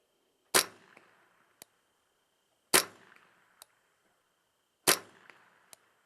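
Three sharp rifle shots from a Ruger .22 fitted with an HHA Sports Optimizer scope, evenly spaced about two seconds apart outdoors, each followed a second later by the faint metallic tick of a distant target being hit.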